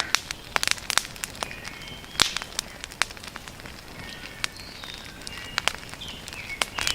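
Campfire burning dry reused wood from an old survival shelter at a hammock campsite, popping and crackling steadily with frequent sharp snaps over a soft hiss, close and alone without talk.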